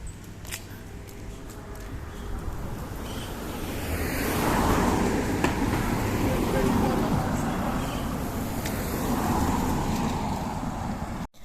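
Roadside traffic on a walk in Negril, Jamaica, with vehicles swelling and fading as they pass close by, a steady broad rumble and whoosh under a voice talking.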